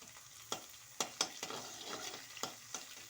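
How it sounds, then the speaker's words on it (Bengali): Onions and curry leaves fry on high flame in hot oil with a steady bright sizzle, broken by several sharp spatters and stirring clinks, close and moderately quiet, with no talking. "আমি হাই ফ্লেমে করে দিলাম দিয়ে আমি পেঁয়াজটাকে ভালো করে ভেজে নিচ্ছি আমি কিন্তু তেলের উপরে কারি পাতাটা দিয়ে দিচ্ছি"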